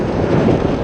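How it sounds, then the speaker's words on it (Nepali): Wind buffets the microphone as a rider cycles uphill, a loud, steady low rumble lasting under a second with no voices. "हावा चलेको छ"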